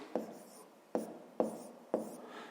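Writing on a board during a fifth-grade maths lesson, with four short scratchy strokes spaced about half a second apart, quiet and close, with no talking.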